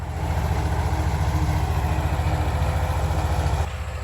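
A cheap $600 tractor's engine runs steadily and loudly while smoothing a field, a low, even chugging throb that holds for several seconds, then drops slightly in level near the end.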